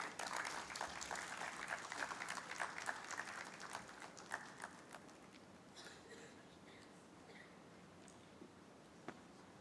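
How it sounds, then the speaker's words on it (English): An audience at the GDEIB Awards 2025 gives a big round of applause as Dr. Ishrat Hussain comes on stage, dense clapping from a crowd that thins out and tapers off to a few last claps. "Please welcome with a huge round of applause Dr. Ishrat Hussain on the stage"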